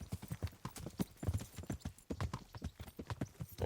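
A horse's hooves gallop in the medieval video game KCD3, a close, rapid and uneven clip-clop rhythm running continuously for a few seconds.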